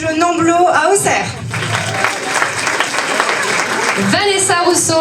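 An audience at the Miss Yonne 2024 beauty pageant applauds loudly and steadily, a dense clapping wash mixed with voices and a loud talking presence over the start and end.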